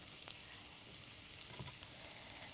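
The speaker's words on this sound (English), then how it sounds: "It's sizzling away. Sizzling away, yeah." Soft, steady sizzling of food frying in a pan, a continuous faint crackle with occasional small pops.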